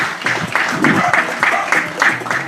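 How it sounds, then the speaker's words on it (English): An audience at a studio grand opening gives a round of applause, a dense wash of clapping that runs under a speaking voice throughout. "if you all could just give him a round of applause for me"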